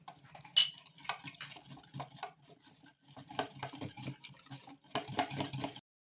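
A spoon stirs lemon juice into a mixture in a bowl, giving soft, irregular clinks and scrapes close by, with a few sharper taps, and no talking.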